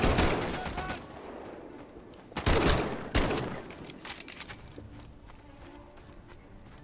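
M1 Garand rifle fire in the Medal of Honor: Above and Beyond VR game, a few sharp, loud cracks spaced apart with a scattered burst, fading into quieter clatter and background noise.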